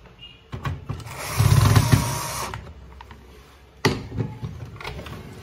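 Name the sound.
screwing the final screw into a Samsung M2020W printer casing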